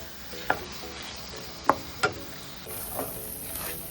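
Onion and tomato soften in a pan for a ridge gourd kootu, with a low background sizzle broken by three or four sharp spatula clinks against the metal pan.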